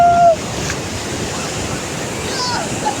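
Sea waves at high tide on Alibag beach wash in as a steady, close surf rush mixed with wind buffeting the microphone; a short tonal sound opens it and no voices are heard.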